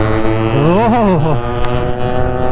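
Yamaha RX motorcycles on a group ride on a highway, engines and exhausts droning loud and close, with pitch swelling and falling as throttles open and close.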